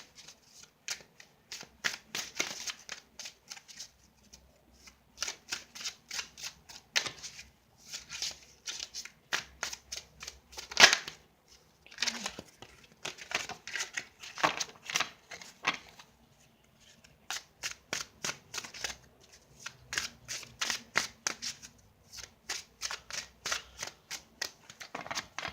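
Tarot cards being shuffled for a Libra reading, with repeated bursts of riffling and flicking at close range separated by short pauses, and one sharper snap about halfway through.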